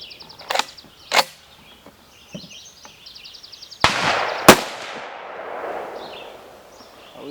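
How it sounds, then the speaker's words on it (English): Shots from a Norinco M14 rifle at an outdoor range, a few sharp cracks, the last two louder and close together, each followed by a fading echo, heard alone with no talk. "let's take our Norinco M14 and let's have a shoot."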